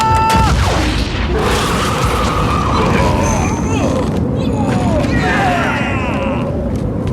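Cannon or gun fire in a dramatized horror adventure series: a few heavy booming blasts rise over a busy, noisy scene with voices present.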